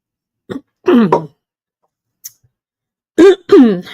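Close, loud throat clearing in several short guttural bursts, a pair early on and another pair after a quiet gap.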